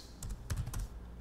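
Keys tapped on a computer keyboard while entering Oracle database commands in a terminal, a short burst of about four close, crisp keystrokes with no talking.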